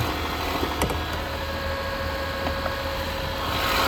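A 2024 Mazda CX-90 engine idles while warming up in cold weather, humming low and even, with a faint rattle and a few light clicks near the start.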